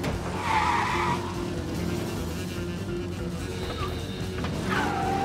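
Tires squeal in repeated bursts as a car drifts in Mafia Definitive Edition, riding over a steady engine drone with skids starting and ending across the stretch, no voices.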